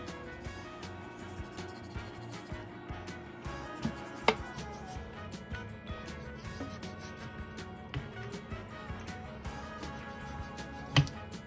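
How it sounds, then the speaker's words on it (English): A knife trims excess fat from two pounds of vinegar-washed oxtail pieces, giving soft repeated cuts and taps on a board with a couple of sharper knocks, close by with no talk. "I'm removing the excess fat from the pieces that are bulky."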